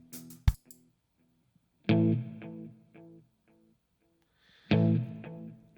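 Guitar played through amp emulation in Amplitube with delay added: a few plucked notes, then two loud strummed chords spaced apart, each ringing out and trailing off in echoing repeats, alone without talk.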